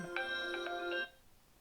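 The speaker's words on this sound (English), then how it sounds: "and that is my phone ringing" A mobile phone ringtone plays a short bright melodic phrase of a few tonal notes for about a second, fairly close and clear, then cuts off into quiet room tone.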